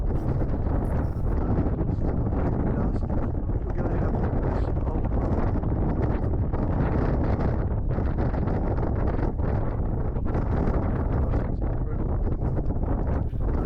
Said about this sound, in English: The wind here is absolutely ferocious